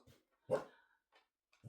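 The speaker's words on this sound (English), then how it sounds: "my dog joining in for some reason" A pet dog gives one short bark, followed by a few fainter yips and whimpers spaced across the moment, fairly quiet and close, with a single spoken word in between.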